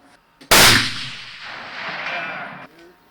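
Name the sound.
rifle gunshots at a shooting range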